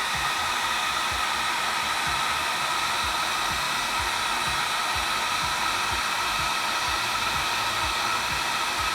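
A hot air blower melts solder, giving a loud, steady rushing hiss with a faint rattling undertone that runs unbroken from start to finish, with no voices.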